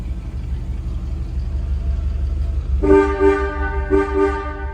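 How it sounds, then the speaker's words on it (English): Over an idling 1957 Chevrolet Bel Air engine, the car's horn sounds two short, loud honks about a second apart. "Your horn works."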